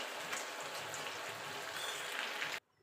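Sabudana vada, crisp sago fritters, sizzle in hot oil with a steady, faint hissing crackle that continues evenly and then cuts off abruptly.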